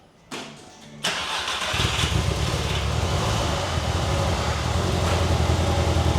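A Volkswagen Golf Mk4 engine cranks briefly, catches and settles into a loud, steady running note, close by, with no talk over it.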